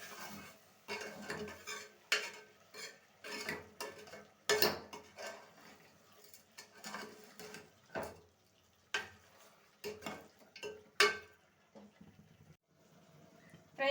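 Mutton with rock salt is stirred in a metal pot, giving a series of close, irregular scraping and clinking strokes of a spoon against the pot, separated by short pauses, with faint sizzling underneath.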